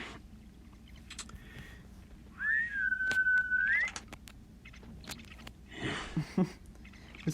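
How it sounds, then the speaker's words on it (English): A single sustained mercenary whistle in a video game waiting room, rising and then holding steady for about a second, over low background hum and scattered small clicks. "Nothing but the sound of mercenaries' whistle."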